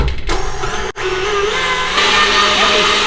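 An electric mixer whirs steadily in coconut chocolate mousse made with dark chocolate, a continuous loud motor drone with one brief dropout near the start, then running on evenly.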